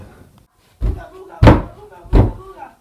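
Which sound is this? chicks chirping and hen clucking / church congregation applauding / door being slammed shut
door being slammed shut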